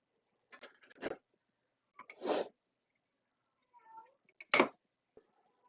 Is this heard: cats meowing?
yes